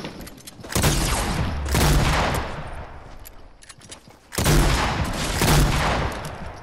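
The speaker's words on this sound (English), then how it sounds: "I love this shotgun." Heavy gunfire bursts in the Fortnite video game, two loud sustained volleys of shotgun blasts with a quieter gap between them, close and dense, no talk over them.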